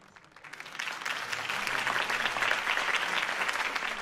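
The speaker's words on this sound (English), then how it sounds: "could have heard that applause" Applause from a large crowd in a Batman video game swells in after a brief quiet start, then holds as steady, dense clapping throughout.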